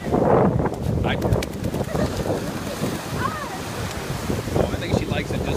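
Ocean surf breaks on a beach in steady wind, with rushing water and microphone wind noise. People talk over it throughout.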